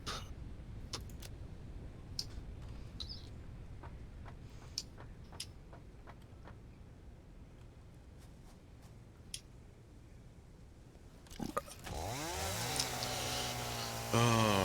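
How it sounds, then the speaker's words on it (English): Chainsaw in the video game Satisfactory, with scattered ticks and clicks through the first part, then a loud, harsh buzzing rev bursting in near the end. "I guess I don't need a chainsaw if you've got one"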